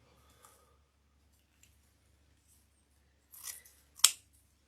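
Scissors snip ribbon tails on a peppermint-wrapped Christmas candy wreath: a couple of soft rustles, then one sharp, close cut standing alone in a quiet room.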